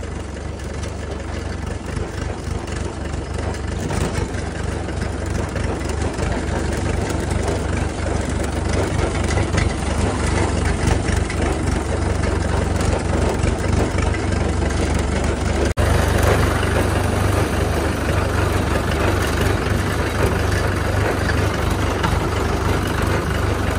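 A Mahindra or Arjun tractor engine runs steadily in a farm field, a loud, continuous low drone that stays close and unbroken throughout.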